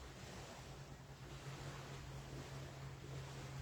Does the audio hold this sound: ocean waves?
yes